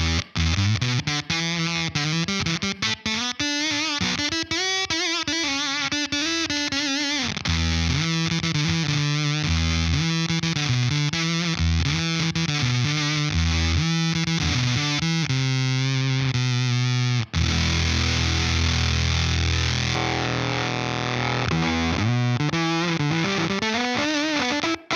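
Electric guitar through a Supercool 77 Fuzz Blender, an op-amp Big Muff style pedal switched into its gated Fuzz Face style mode, playing loud, sustained distorted riffs and chords that cut off abruptly between phrases.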